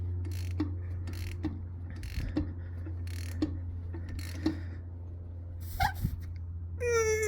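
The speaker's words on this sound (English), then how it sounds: "Tighten this real good" A wrench ratchets as a part is tightened on a 400cc two-stroke engine, with several evenly spaced clicks over a steady low hum, a couple of louder knocks and a brief squeak near the end.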